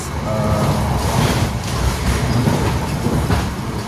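The Argo Mendoan commuter train on the Cilacap–Jakarta line rumbles steadily along the rails, a dense continuous roar with faint rhythmic clatter, heard from inside or close by without talk.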